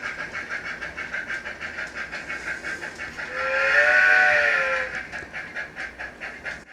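A DCC model steam locomotive fitted with a Loksound 50334 sound decoder and upgraded speaker chuffs in a steady rhythm, then a sustained whistle swells loudly in the middle and fades as the chuffing continues alone.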